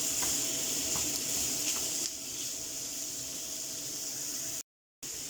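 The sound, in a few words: minced meat browning in a pan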